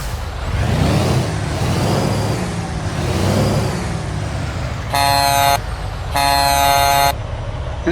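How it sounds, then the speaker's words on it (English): Two loud, brassy, train-like video game truck horn blasts, each about a second long, sound over a low rumbling engine drone. "that's the not so generic horn. Sounds a little more train-like"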